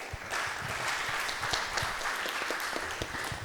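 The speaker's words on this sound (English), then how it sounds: "Let's give her a round of applause" A crowd claps steadily throughout, a dense patter of hands with no pauses, fairly even in loudness.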